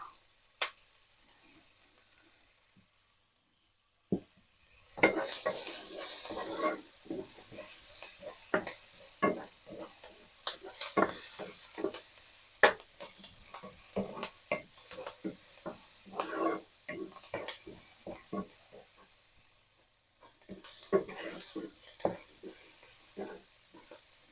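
Garlic sautéing in a pan for Filipino chow mein, with a steady loud sizzle and frequent scraping, stirring clatter against the pan, quieter for the first few seconds before the sizzle swells.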